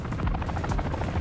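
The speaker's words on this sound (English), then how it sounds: "Holy shit, the chopper is coming." A helicopter in the Call of Duty DMZ game closes in, its steady, loud rotor thump pulsing continuously over a low engine rumble.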